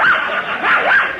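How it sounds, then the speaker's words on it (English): A dog barking as a sound effect in a 1937 Jack Benny radio comedy, a continuous run of loud, close yelping barks with rising and falling pitch, heard alone without talk. "Is there a police dog in it?"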